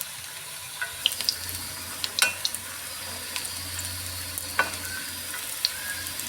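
Drumstick flower pakoras fry in oil with a soft, continuous sizzle, punctuated by scattered light clinks and taps of a utensil against the pan.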